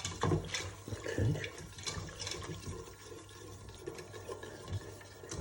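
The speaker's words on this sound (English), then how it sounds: "Let's add a bit of water in here as well." Water pours into a soup pot of hearty cream of chicken and mushroom soup, a steady splashing stream under kitchen noise that runs the whole time.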